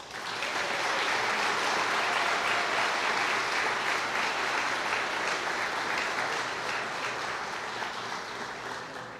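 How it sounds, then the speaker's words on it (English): An audience applauds honorees at the 2025 Senior Legacy Awards ceremony in Riverside County, with sustained, dense clapping from a crowd that holds steady and tapers slightly at the end. "Now we can applaud for all of them."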